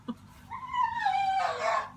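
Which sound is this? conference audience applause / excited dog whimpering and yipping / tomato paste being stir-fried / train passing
excited dog whimpering and yipping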